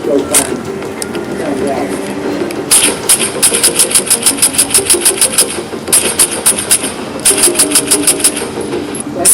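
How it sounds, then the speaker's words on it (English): A Kriss Vector submachine gun fired with Glock 31-round magazines: rapid, evenly spaced bursts of sharp metallic shots, loud and close, several long strings with brief pauses between them. "This is our Chris Vector, and we're going to show you how it shoots."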